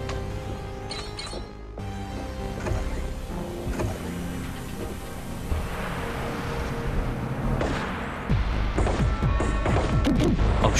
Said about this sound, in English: It's not normal bullets, it's rockets.